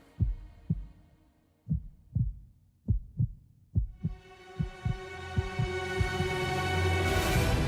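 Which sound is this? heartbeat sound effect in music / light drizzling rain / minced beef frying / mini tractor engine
heartbeat sound effect in music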